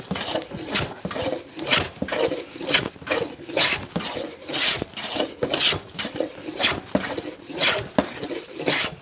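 A Dictum No. 62 hand plane flattening a board, rhythmic rasping strokes roughly once per second, close and fairly loud, repeated about a dozen times with no talking.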